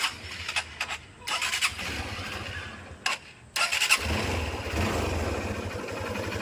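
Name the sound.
motorcycle engine running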